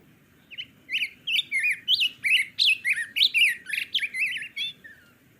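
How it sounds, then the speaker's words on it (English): Bright, whistled song of a black-headed grosbeak, heard as a run of rich warbled phrases close by in quiet outdoor surroundings, with no talk. "Listen, that's a black-headed grosbeak."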